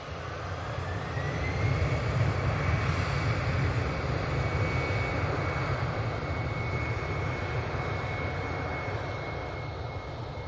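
A TUI airliner passing at Manchester Airport, a steady broad jet-engine roar with a faint rising whine, swelling slightly early and holding at moderate distance for the whole stretch, with no talk.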